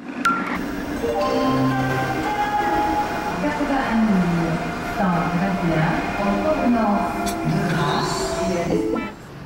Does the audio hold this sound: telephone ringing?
no